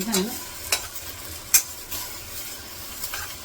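Pav bhaji masala and red chilli powder fry in a pan while a spoon stirs them, giving a steady sizzle broken by a few sharp scrapes and clinks.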